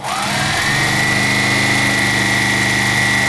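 A sewing machine stitching a seam in fabric gives a loud, steady motor whir that spins up in the first half-second and then holds an even, close hum with no talk.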